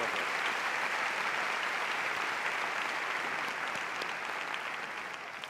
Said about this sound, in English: Big round of applause for this dancer